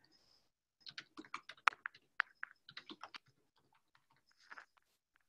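Close, clicky typing on a computer keyboard during a Wikidata editing session: bursts of quick keystrokes fill the first few seconds, then pause, with a short final flurry near the end and no voices.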